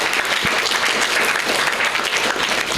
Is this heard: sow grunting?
no